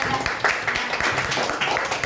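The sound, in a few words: class applause for a student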